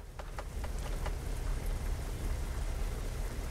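Steady rain in American Truck Simulator falls as a dense, continuous hiss with a low rumble beneath, alone and without any voices.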